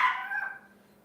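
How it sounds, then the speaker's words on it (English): A puppy gives a single short, high yip at close range, fading quickly into quiet room tone. "Ignore my puppy."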